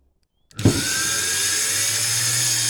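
A washing machine motor wired to a drill trigger switch spins up sharply from silence after a brief click, then holds a loud, steady whine with a low hum underneath, running continuously close by.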